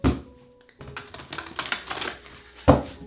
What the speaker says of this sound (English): One more shuffle.